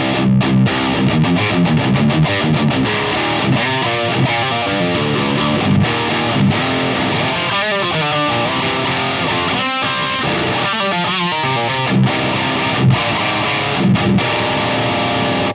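An electric guitar plays tight, heavily distorted metal riffs through a Fryette Deliverance amp boosted by a Tube Screamer, loud and chugging with palm-muted bursts and sustained chords, no voices.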